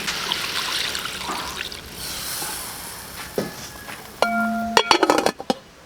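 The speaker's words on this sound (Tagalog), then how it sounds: "Dagdagan natin ulit ng tubig." Water trickles and splashes softly into a cooking pot of boiling beef trotters, followed by a few metallic clinks and a ringing tap against the pot near the end.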